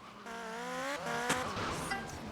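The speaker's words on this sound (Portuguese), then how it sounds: "A moto entrando na parede ali." In GTA Vice City Stories a motorcycle revs with a rising tonal whine, then slams into a wall with a sharp impact near the middle, followed by scraping and skidding noise.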